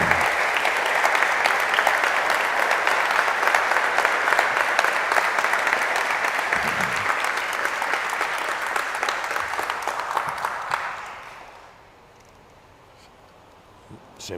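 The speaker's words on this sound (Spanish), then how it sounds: "un fuerte aplauso para ellos" Sustained audience applause after a lecture on the Alhambra ceilings fills the room, steady and dense for about ten seconds before fading out into near quiet.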